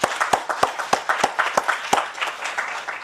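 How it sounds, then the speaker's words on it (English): Audience applause for young conference helpers at the close of an academic conference, with sharp individual claps standing out at an uneven rhythm over a thinner patter of hands, fairly close and steady for about three seconds. "let us, give them also a big applause."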